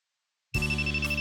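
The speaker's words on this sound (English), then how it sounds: "I hear my phone beep" A phone beeps in the visual novel Amatsutsumi: a bright electronic tone starts suddenly after silence and holds steady, with a short higher blip near the end and no voices.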